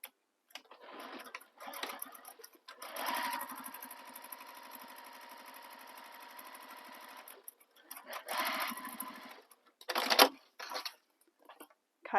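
A sewing machine topstitches bag fabric in short bursts and then one long steady run of close, rhythmic mechanical whirring, with clicks and handling noises in the pauses.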